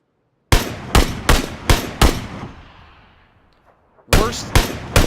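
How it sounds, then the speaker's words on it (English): SKS rifle shots in a shooter video game: five sharp, loud gunshots fire in quick succession, a decaying echo trails off, then three more rapid shots follow. "Worst SKS shots of the game, by the way."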